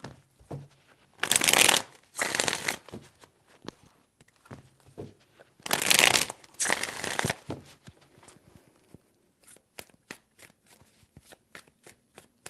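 Tarot cards being shuffled by hand in several bursts of riffling and rustling, separated by short pauses and followed by lighter taps and card handling, close and fairly loud with no talk.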